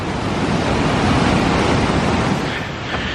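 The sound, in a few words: rushing waterfall water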